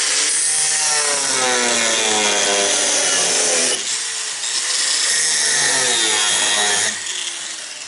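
Power saw cutting through the steel rocker panel of a 1965 Ford Mustang convertible, a loud continuous grinding rasp that runs nearly unbroken, with a brief dip near the middle and a lighter pass toward the end.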